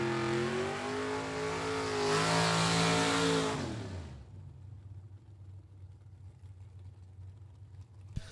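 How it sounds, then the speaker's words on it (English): An Oldsmobile Calais and a Ford Mustang drag racing at a strip roar loudly at full throttle, engines climbing in pitch for about four seconds, then fading away to a distant low rumble. "This is Austin with the Oldsmobile Calais taking on the Ford Mustang left-hand lane"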